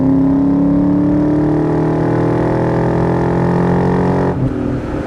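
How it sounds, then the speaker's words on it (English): A 2001 Ford Saleen's 4.6 V8 engine with a five-speed manual drones loudly in third gear with a deep, steady exhaust note, holding a constant pitch before the tone drops abruptly near the end. "I think it has a great exhaust note if you ask me"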